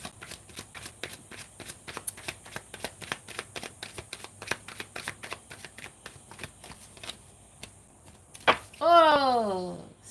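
Tarot cards shuffled in a rapid run of crisp, evenly spaced riffling clicks, close and clear, ending with a louder snap and a brief burst of sliding card noise.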